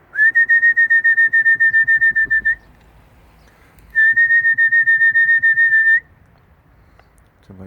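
A person whistles to call pigeons in two long runs of rapid, trilling pulses on one high pitch, with a quiet pause between them and faint background rustling.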